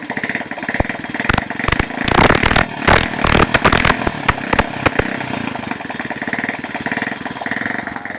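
Motorcycle engine running after repair, a loud close idle with uneven sputtering pops and revs that rise and fall throughout, no voices.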